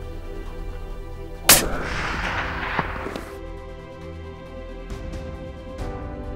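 A single loud, close rifle shot cracks out during a driven wild boar hunt, followed by a decaying echo and faint outdoor ambience.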